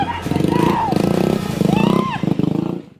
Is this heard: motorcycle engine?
yes